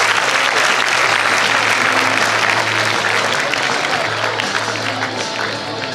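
Loud, sustained applause from a large crowd at a school awards ceremony, with a low hum running beneath and a voice briefly audible as the clapping tapers slightly toward the end.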